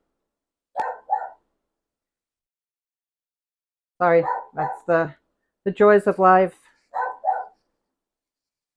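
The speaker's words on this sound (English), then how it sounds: "If my dogs have something to say, we're going to hear it." Dogs barking indoors in short sharp bursts near a window left open on a warm day, sounding in a few separate clusters between stretches of speech in a home kitchen.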